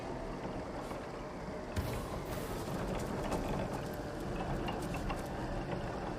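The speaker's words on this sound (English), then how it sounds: "A mill grinder, eh?" A mill grinder turning in the video game Divinity: Original Sin, a steady creaking, ratcheting mechanical grind with a gear-like rhythm that keeps going for several seconds, fairly loud and with no speech.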